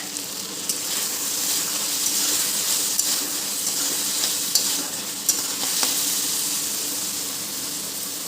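Milky taro (dudh kochu) frying with dried fish in a pan, cooking in its own released water, a loud continuous sizzle with intermittent stirring scrapes and light clicks of the utensil throughout.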